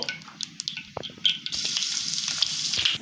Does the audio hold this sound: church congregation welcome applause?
no